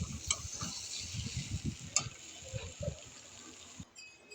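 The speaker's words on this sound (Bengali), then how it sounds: "নাড়া দিব" A spoon stirs a pan of spices, including garam masala and panch phoron powder, for a chickpea dish. Soft, irregular scraping and clinks ride over a quiet sizzle close by.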